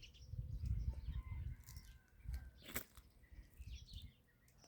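Small garden hummingbirds give brief, faint chirps and a quick wing whir among low background rumble, several scattered calls over a few seconds with no talking.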